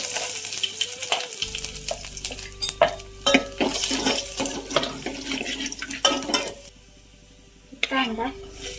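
Vegetables and garlic hit a hot pan and fry with crackling sizzle and clattering stirring, close and fairly loud, the sizzle settling to a quieter hiss before a final stir.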